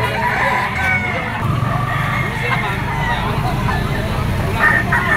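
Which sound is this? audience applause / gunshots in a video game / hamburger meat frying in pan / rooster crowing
rooster crowing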